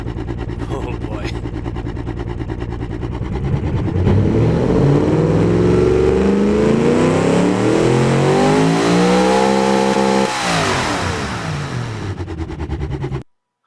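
Car engine in the BeamNG video game revving hard toward 8,000 RPM, a loud, continuous rising whine that climbs steadily, peaks, then falls back and holds before cutting off abruptly.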